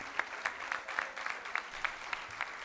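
Audience applause at a payada (improvised folk song duel) event, with a rhythmic, steady clapping pattern, moderately loud and sustained throughout.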